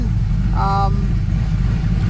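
Truck with a big cam turbo LS 6.0 engine idling, a loud, steady low rumble with a short tonal whine partway through.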